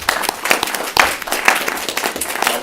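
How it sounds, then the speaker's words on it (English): An audience at a Villa Rica live event gives a round of applause, scattered hand claps rising and falling in a fairly close, uneven patter. "I'd like you all to give him a round of applause"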